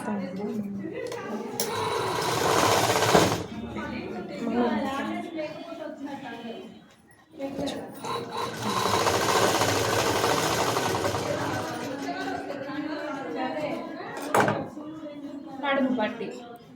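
A sewing machine stitches fabric during a tailoring lesson on pleated point stitching, running in two long bursts with a short pause between, under continuous talk and small handling clatter.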